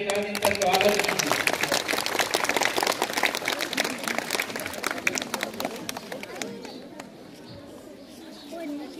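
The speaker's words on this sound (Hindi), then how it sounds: "आप जोरदार तालियों के साथ इनका स्वागत कीजिए" Audience at a Montessori and junior high school event in Kot, Uttar Pradesh, applauding as children come on stage, dense loud clapping and crowd noise that fades out after about six seconds, mixed with voices.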